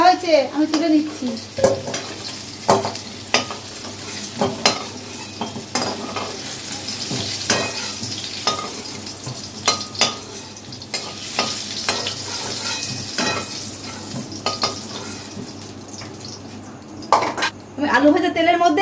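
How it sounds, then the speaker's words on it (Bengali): Fried potatoes stirred and lifted from a pan of hot oil for aloo dum, with repeated close spatula scrapes and clinks over a constant sizzle. "আমার আলুগুলো ভাজা হয়েছে, আমি তুলে নিচ্ছি।"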